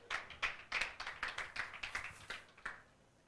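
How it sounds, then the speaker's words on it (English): A small press conference audience claps, a sparse, thin round of about a dozen separate claps that fades out, faint and without talk. "So we need to give ourselves a round of applause."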